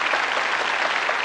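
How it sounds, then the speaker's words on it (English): Steady, dense applause from a game show studio audience, loud and continuous throughout with no gaps. "Give them a round of applause, folks."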